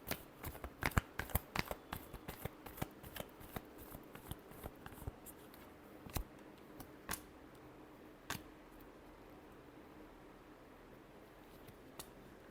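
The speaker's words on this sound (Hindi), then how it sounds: "Last shuffle." Tarot cards are shuffled by hand in close, crisp bursts of riffling and slapping, dense at first, then thinning into sparse individual snaps and taps over a quiet background, with no talk.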